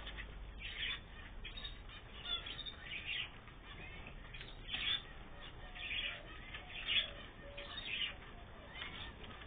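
Canaries in an aviary give faint scattered chirps and squawks, with occasional wing flutters, all at a distance.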